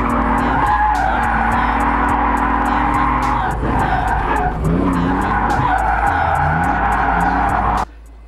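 A rented car drifting at a drift day, with loud, sustained tire squeal and skidding over a roaring engine that rises and falls for several seconds before cutting off abruptly, with a voice faintly audible underneath.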